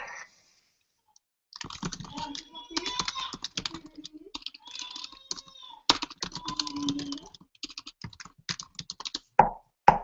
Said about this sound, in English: So I just typed for everybody